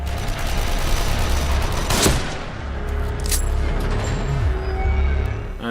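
Gunfire during a boss fight in The Evil Within on PlayStation 4: loud shots and a sharp blast rising over dense, constant game noise, with no talk heard.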